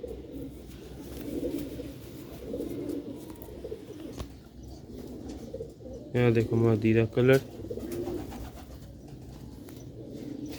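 Sialkoti rooftop pigeons coo in a coop, a short cluster of loud, close, throaty calls after a murmur of softer background cooing, with someone talking over parts of it.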